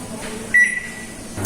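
An oven set to convection preheat gives one short, clear electronic beep over a quiet room hum, with a faint click near the end.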